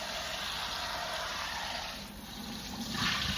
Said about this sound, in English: So let's go ahead and wash this rice in this pan.